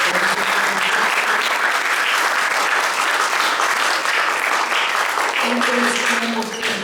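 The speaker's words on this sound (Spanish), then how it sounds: "Hermanos, un aplauso." A church congregation claps together during a Spanish-language sermon, a loud, sustained wash of hand claps lasting several seconds, with a faint low hum of voices or music beneath.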